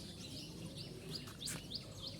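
Small birds call on a rooftop, repeated short high chirps and tweets at a regular pace, faint and somewhat distant over quiet outdoor background.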